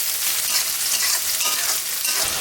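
Onions and chillies fry and sizzle in hot oil for beef tehari, with a steady, dense crackle and stirring scrapes throughout, close and fairly loud with no talk.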